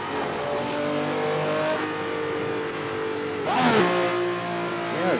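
A race car engine holds a steady drone, then revs and drops sharply through gear shifts, with the pitch climbing and falling again near the end. Close and loud, with no voices.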